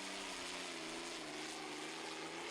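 A light limited pro stock pulling tractor engine roars loud and steady at a tractor pull, a droning low hum rising and falling slightly with the bounce, continuous throughout with no voices.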